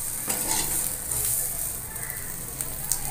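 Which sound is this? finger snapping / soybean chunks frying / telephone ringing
soybean chunks frying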